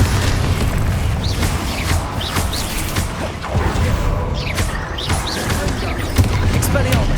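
Confringo spell blasts from Hogwarts Legacy combat thump and crackle repeatedly amid dense battle noise, with whooshing effects and a voice calling out spells over the din.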